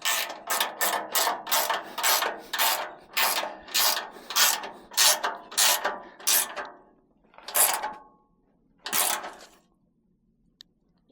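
Hand ratchet tightening bolts on an adjustable truck bed roll bar chase rack, a fast series of close, sharp clicking strokes that slows into a few separate pulls, then a single faint tap.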